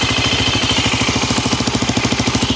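Voge 300 Rally motorcycle engine idling quietly, a steady low, even putter with regular firing pulses, close and alone with no talk.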